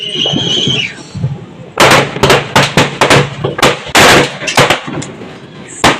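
Firecrackers crackle and pop in a rapid, uneven string of sharp loud bursts, preceded by a brief high squeal and some background noise.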